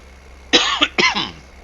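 A man with a cold coughs twice in close succession, each cough harsh and loud up close, with a short gap between, and no talking around them.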